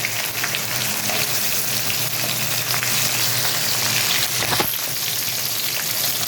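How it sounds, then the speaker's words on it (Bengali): Chopped tomatoes sizzle steadily in hot oil in a pan, a dense, even frying hiss with faint scrapes as they are stirred, and no voices. "টমেটোটা দিয়ে একটু টমেটোটা ঘেটে ঘেটে দিতে হবে"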